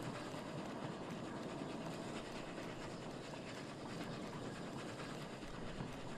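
A train running in the video game Oddsparks gives a faint, steady rolling rattle with a constant, even texture and no talking over it.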